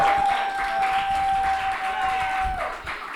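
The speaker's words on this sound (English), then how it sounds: "don't just clap for her" An audience at a spoken word poetry showcase claps for a poet, a moderate steady patter of applause that tapers off near the end.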